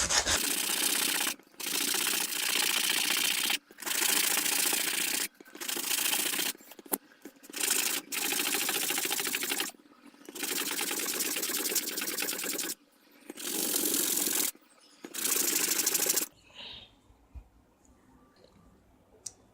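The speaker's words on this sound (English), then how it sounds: "So here I need to file this wooden piece until this part" A hand file rasps against a small wooden piece being shaped into a duplicate door key. The rough scraping strokes come close and fairly loud, in repeated bursts separated by short pauses, and go quiet at the end.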